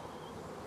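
Honey bees swarming around a hive fitted with a super above the queen excluder give a steady, close, dense buzzing hum, alone and without talk, over a very brief span.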